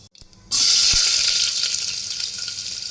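Mustard seeds and cumin hit hot oil with a sudden loud, steady sizzle that rushes in after a quiet start and crackles on without a break.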